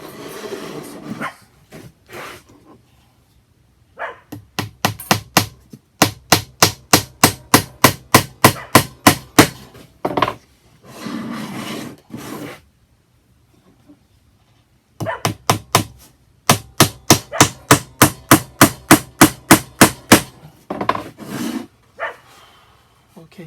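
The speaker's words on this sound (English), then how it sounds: "we're going to add some more nails on" Hammer strikes drive nails into a wooden tool tray, arriving in two long, steady runs of sharp, evenly spaced blows. Between the runs there are brief pauses and a little talk.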